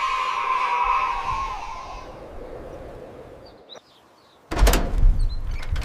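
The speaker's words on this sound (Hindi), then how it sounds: "दरवाजा खुला" A door swings open with a drawn-out creak that fades, then a brief quiet before a loud clattering bang and rattle, with faint bird chirps in the background of a cartoon scene.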